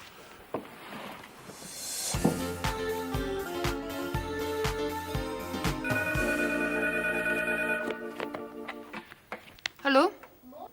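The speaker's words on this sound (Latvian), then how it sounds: "Monika, Hilda zvana" A telephone rings repeatedly with loud tonal bursts, steady for several seconds, followed by a brief voice near the end.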